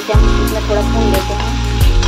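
Pumpkin curry with garam masala frying in a hot pan, sizzling loudly and continuously with a few sharp stirring scrapes and clatters, no voices.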